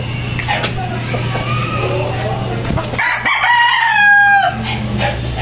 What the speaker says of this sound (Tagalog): Isang sweater Boston na manok.